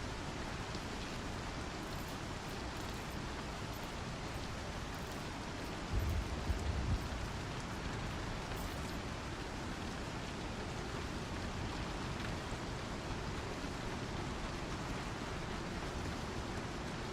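Rainfall in the game Star Citizen, a constant broadband wash of falling drops, even and unbroken, with a brief lower rumble partway through and no voices.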